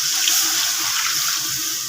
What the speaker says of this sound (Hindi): इसमें आपने 3 लीटर पानी डालना है